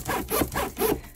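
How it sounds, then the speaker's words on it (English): A zipper on a Teddy Blake Vanessa luxury handbag is pulled open and shut in three quick, close rasping strokes, loud and alone. "Y'all know we test zippers over here,"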